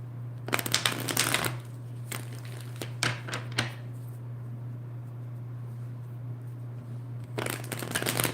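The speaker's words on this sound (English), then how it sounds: "As I am shuffling these cards" A deck of tarot cards is shuffled by hand in several crisp riffling bursts, with quieter taps and shuffles between them over a steady low hum and no speech.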